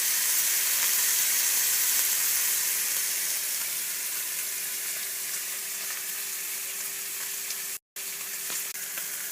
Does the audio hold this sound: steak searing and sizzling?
yes